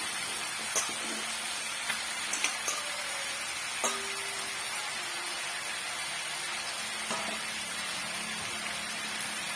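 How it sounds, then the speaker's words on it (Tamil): Potatoes and tomatoes sautéing in a pan for a potato gravy, a soft, even hiss of frying with occasional stirring clicks and scrapes, steady and moderately close. "இதையும் சேர்த்து வதக்கும் போது தக்காளி பழம் நல்லாவே மசிஞ்சு வந்துடும்"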